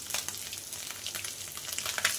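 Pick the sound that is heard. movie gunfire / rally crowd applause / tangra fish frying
tangra fish frying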